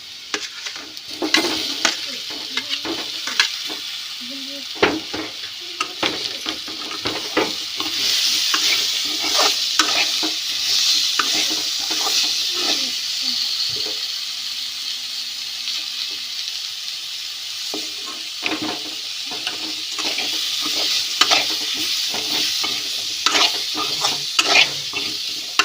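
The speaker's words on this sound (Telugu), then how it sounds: "ఇప్పుడు మనం ఉడికిచ్చిన ఆలు యాడ్ చేసుకుందాం." Boiled potatoes tumble into golden fried onions in a pan for an egg potato masala curry, then get stirred with steady scraping strokes over a constant close sizzle for the whole stretch.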